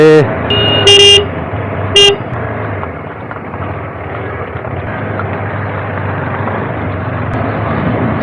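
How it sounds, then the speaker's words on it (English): Car horns toot in short bursts at the start of a traffic jam, heard from inside a vehicle on the road near a tunnel on the Banihal–Qazigund road, over a steady roar of engines and road noise. "See the kind of traffic jam here."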